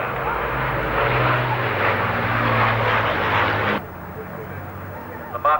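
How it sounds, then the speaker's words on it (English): An Avro Lancaster bomber in 103 Squadron markings flies past at the Farnborough Air Show, its piston engines giving a loud, broad propeller roar that cuts off sharply and leaves a quieter rumble, with a commentator talking over it. "the Lancaster running back in to the east"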